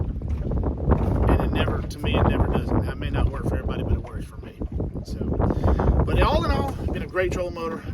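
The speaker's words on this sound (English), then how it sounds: "And there's 25-mile-an-hour wind back here." Strong 25 mph wind buffets the microphone at the back of a fishing boat, a loud continuous roar with water noise, while someone talks over it the whole time.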